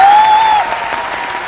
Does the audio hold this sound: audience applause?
yes